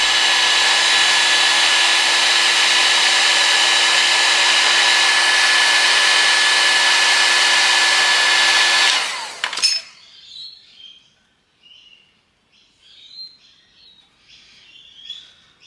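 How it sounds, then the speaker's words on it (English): A heat gun blows a loud, steady whirring roar while shrinking heat-shrink tubing on the pull start cord of a Honda lawnmower. It runs for about nine seconds and then switches off, leaving faint birdsong in the background. "It's just far easier if you do want to have one of these heat guns. So we just switch it on"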